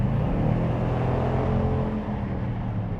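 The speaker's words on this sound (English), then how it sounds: "that's just a light acceleration" A 2021 Dodge Durango RT with the Tow N Go package accelerates lightly at highway speed, giving a steady, smooth engine and road rumble heard from inside the cabin, with no speech.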